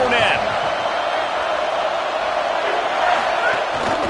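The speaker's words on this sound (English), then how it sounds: "The roar of the crowd trying to fuel this defense to keep them pinned in their own end." Roaring crowd in the NCAA 26 college football video game, a dense, steady wash of stadium noise at full loudness throughout, with no individual voices standing out.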